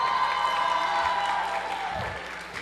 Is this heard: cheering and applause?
yes